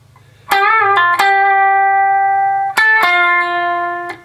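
An electric guitar plays a bend, release and pull-off lick, bright sustained notes bending up and back with sharp picked attacks, clear and prominent with no talk.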